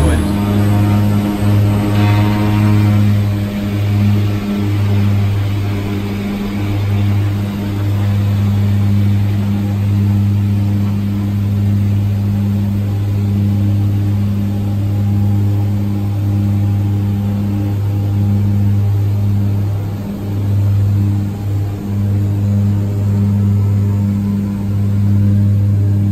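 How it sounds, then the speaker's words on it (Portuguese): Steady, loud drone of Twin Otter propeller aircraft engines running continuously in flight, with a constant low hum and rhythmic throb throughout. "E é claro, eu vou deixar vocês com o som dos motores."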